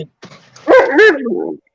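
A half-wolf, half-dog hybrid gives a couple of loud, close barks mixed with whiny, yelping vocalizations, a short burst of a few seconds with brief quiet around it.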